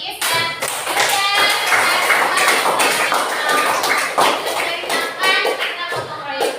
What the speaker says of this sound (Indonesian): kita kasih tepuk tangan dulu buat Riis dan Yuda